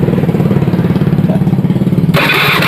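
In a repair workshop, a Honda Beat FI scooter with an ignition fault is checked by reconnecting its pulser; its engine turns over in a close, rapid pulsing chug, then the sound shifts abruptly near the end.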